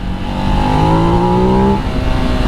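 A Ducati Desert X Rally motorcycle engine revs hard after a downshift, a loud, continuous climbing and falling snarl with sharp, responsive pitch changes and no voices over it.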